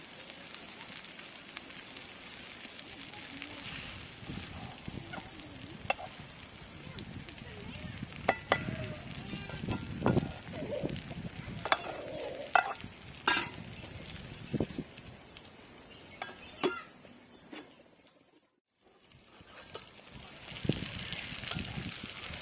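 Green eggplants cooking under a lid over a low flame, a soft continuous sizzle and crackle with scattered small pops, faint and steady, briefly cutting out near the end.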